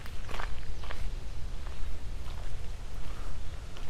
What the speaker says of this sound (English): Tiptoe through the water